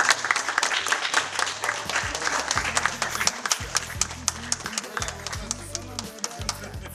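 Applause at an opening ceremony for a wrestling hall in Elista: a crowd claps steadily with sharp, distinct hand claps over a low background hum throughout.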